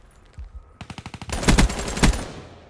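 Rapid automatic gunfire in a Call of Duty–style shooter, a quick burst of evenly spaced shots followed by heavier, louder overlapping blasts, punchy and close with no talk.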